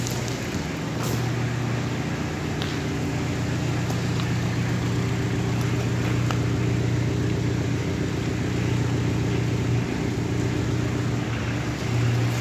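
A Renault 11 fitted with a 1.9 Clio engine drives through mud, its engine droning steadily and close at a fairly constant pitch, with rumbling and rattling from the car throughout and no voices.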